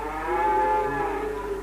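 A cow gives one sustained, close, loud moo that holds steady and then slightly falls, with no talk over it.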